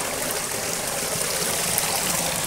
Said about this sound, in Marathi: इथून पाणी निघत आहे